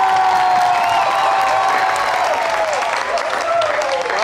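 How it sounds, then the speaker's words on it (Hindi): Studio audience applause and cheering on an Eid television show as a guest named Amar Khan is welcomed, a loud dense roar of clapping with a sustained tonal line running through it, tapering slightly toward the end. "आपकी भरपूर तालियों में अमर खान"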